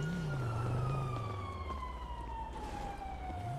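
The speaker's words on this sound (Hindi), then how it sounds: "एक और सायरन बज रहा" Police siren wailing in the video game GTA 5, a rising and falling tone sweeping continuously over ambient game noise, fairly close and steady throughout.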